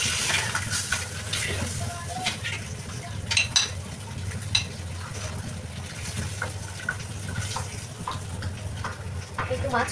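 Fish frying in a pan at home, a continuous crackling sizzle with a low hum underneath and occasional clinks and scrapes, fairly close.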